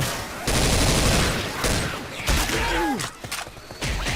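Rapid gunfire in Left 4 Dead 2, loud and dense for most of the stretch with brief gaps, mixed with game effects and a sliding tonal whine near the end.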